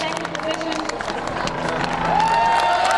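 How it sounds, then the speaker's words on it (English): A crowd cheers and claps at an A1GP motor race podium ceremony as Ireland takes bronze, the applause mixed with babble and an announcer's voice over a continuous background hum. "Applause as the bronze medal goes to Ireland, their first time back on the podium for 39 races."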